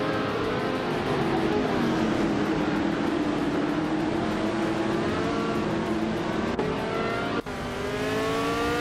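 Several race car engines drone continuously in a racing video game, their pitches rising and falling as the pack runs steady, with two brief sharp clicks late on and no one talking.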